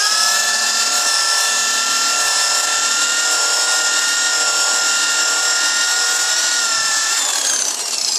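A power polisher buffs a headlight lens with compound, giving a loud, steady, close-up whirring hum with a rough rubbing texture that runs unbroken and then eases slightly at the end.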